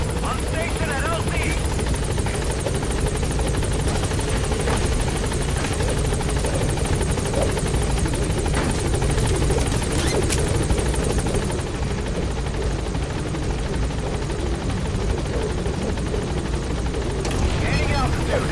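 The B-Quad support helicopter in the video game Metal Gear Solid V arrives at a landing zone, its rotor thudding in a loud, constant drone throughout, with game voices talking over it.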